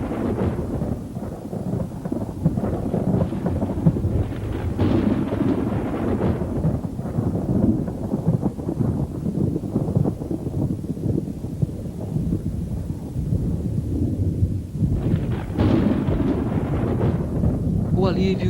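Thunderstorm over the Australian landscape, with heavy rumbling thunder rolling almost continuously, joined by rain and gusts of wind, loud and close throughout.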